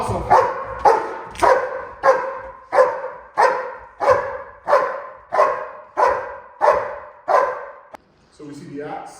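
A Malinois or German Shepherd police dog barking in a steady, rhythmic series of about a dozen loud, close barks at even intervals during bite training, followed by a short whine at the end.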